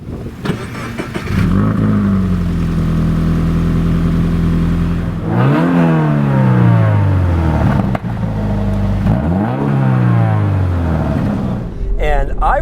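A 2018 Toyota 86 sports car engine revs repeatedly, climbing high and falling back in three or four loud sweeping pulls with a deep, burbly growl, heard close and clear with no talking.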